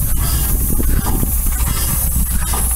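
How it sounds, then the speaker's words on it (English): An antique boiler engine driven by compressed air instead of steam, its governor working, gives a steady loud hiss of air with a rhythmic chuffing pulse running through it, close by and with no talk. "I'm running with compressed air."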